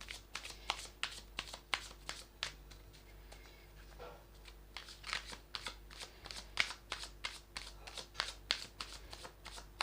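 Tarot cards shuffled for an inner child reading, a steady run of quick riffling snaps and soft paper flutters that repeat close and quiet, with no one talking.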